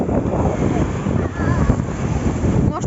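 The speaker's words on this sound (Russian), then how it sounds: "Единственное, ветер." Wind roars across the microphone by the sea on the Crimean coast, a loud constant rush with surf blended underneath and no clear speech.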